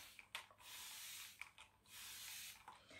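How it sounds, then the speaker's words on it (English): Several soft hissing bursts of spray starch misting onto fabric, fairly quiet, with longer sustained sprays between short puffs. "I'm going to take my spray starch and I'm going to spray it all over the"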